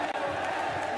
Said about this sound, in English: The crowd erupting, begging for the ace.